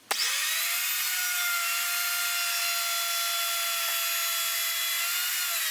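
A router bit cuts a 1/8-inch-deep pass into pine wood, starting abruptly with a loud, steady high-pitched whine and cutting roar that holds evenly for several seconds, close and alone.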